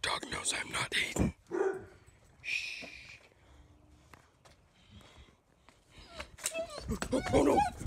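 A dog barks several times in short bursts near a house, mixed with footsteps and a person talking close by, and a louder flurry comes near the end.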